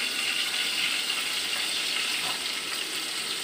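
Ginger and shallots sautéing in a pan, a steady hissing sizzle that holds at even loudness throughout with no talk over it.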